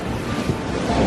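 Ocean water rushing and washing through coastal rocks on the California shore at dawn, a dense, steady surf roar held throughout the short moment.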